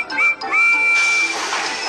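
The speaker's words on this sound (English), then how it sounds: "Percy has a whistle that sounds like this." A small green tank engine sounds its whistle: a steady, clear high-pitched tone, close and loud, with a brief break before a longer held blast that then fades into a breathy rush.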